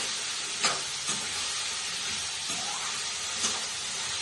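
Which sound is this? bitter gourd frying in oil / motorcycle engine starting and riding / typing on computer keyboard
bitter gourd frying in oil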